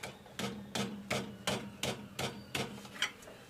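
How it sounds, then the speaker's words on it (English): A 1¼ wrench tightens a hydraulic fitting on a John Deere 4020 tractor, giving nine evenly spaced rasping, ratcheting strokes in a steady rhythm, close and moderately loud with no talking. "We're using our 1¼ wrench. And we're going to tighten this up and get it very snug."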